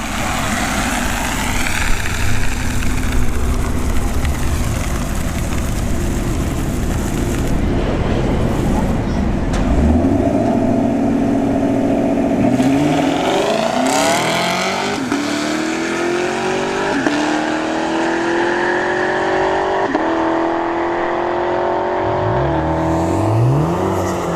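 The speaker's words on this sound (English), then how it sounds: "we're gonna see Manny in the LT1 Camaro go up against the S19750 in the right lane" An LT1 Camaro drag races another car at Bradenton Motorsports Park, engines roaring loud and close off the line, then revving through gear changes with rising and falling pitch as they pull away, with an announcer talking over it.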